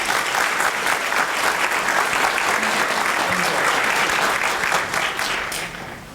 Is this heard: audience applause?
yes